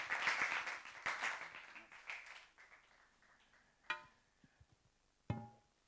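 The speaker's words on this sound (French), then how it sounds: "C'est sous vos applaudissements que nous allons remercier le docteur Nyang." An audience claps in thanks after a talk on HIV epidemiology, a burst of applause that fades over a few seconds, followed by a couple of sharp isolated knocks.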